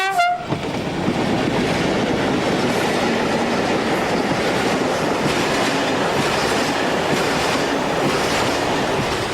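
A freight train rumbles steadily along a Portuguese branch line, close and loud, with a short horn blast at the start, then continuous rolling wagon noise and clatter throughout.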